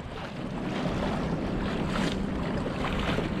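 An Old Town Autopilot motorized kayak pushes through choppy water and swells at about 3.4 mph, with steady rushing water and wind noise buffeting the microphone, close and continuous, no talk.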